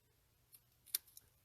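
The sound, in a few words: scissors cutting fine paper detail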